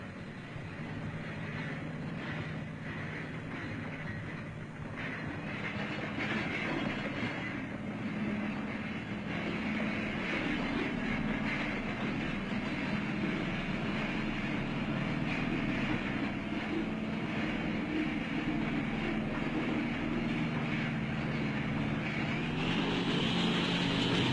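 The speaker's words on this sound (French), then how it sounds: "Les tanks les précèdent. Observez que les monstrueuses machines avancent sans tirer." Tanks advance in archival film of the colonial entry into south-eastern Morocco. The soundtrack carries a steady, dense mechanical rumble and roar throughout, with no break.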